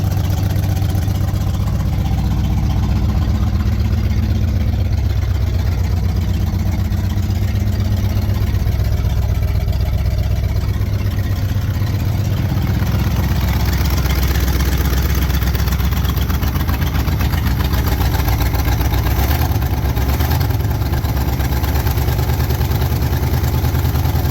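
An old engine, unused for 30 years, runs steadily at idle after finally firing up, a continuous loud mid-pitched rumble throughout with no talk over it.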